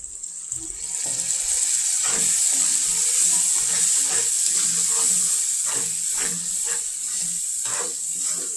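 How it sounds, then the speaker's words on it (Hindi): Water pours steadily into sizzling masala of ground coriander, turmeric and salt in a hot pan, giving a continuous bright hiss and sizzle with light bubbling throughout. "थोड़ा सा हम इसके अंदर पानी डालेंगे।"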